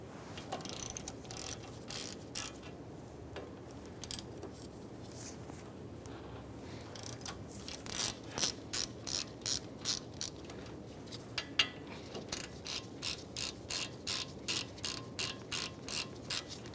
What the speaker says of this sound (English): I'm going to use a 12mm socket and loosen our caliper bolts.